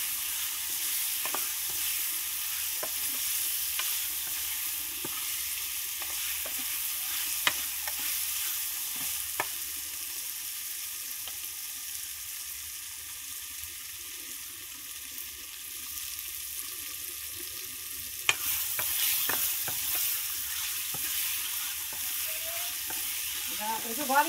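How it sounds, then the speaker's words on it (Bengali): Dried fish (shutki) frying in spice paste in a pan, a steady close sizzle with scattered scraping clicks of stirring, running continuously and alone without talk. "শুটকিগুলোকে মশলার মধ্যে একটু ভেজে নেওয়া হবে।"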